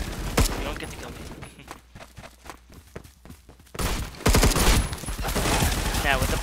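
An M16A3 rifle fires in bursts in the Phantom Forces video game, with rapid, rhythmic cracks of gunfire packed close together. A voice talks over the shots.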